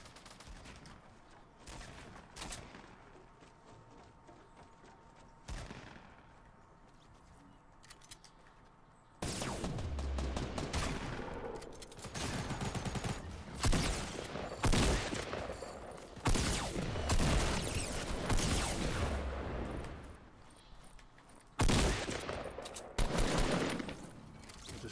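Gunfire in a Fortnite 20-player team match, rapid shots crackling at moderate distance, sparse at first and then growing into dense overlapping volleys and bursts.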